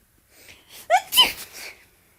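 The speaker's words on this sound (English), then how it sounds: "Wait, did you just sneeze?" A single person sneezes once, a sharp voiced burst preceded by a brief inhale, loud and close in a quiet room.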